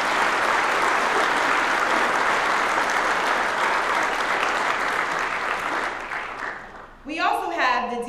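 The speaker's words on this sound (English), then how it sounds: "Let's give this team a round of applause." Conference audience in a large general session hall gives a loud, sustained round of applause that fades out near the end, followed by someone speaking.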